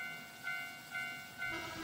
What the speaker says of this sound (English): Oh, it's a train.